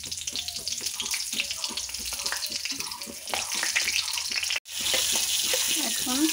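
Green chillies and nigella seeds hit hot oil in a kadai, giving a steady crackling sizzle under a voice speaking throughout.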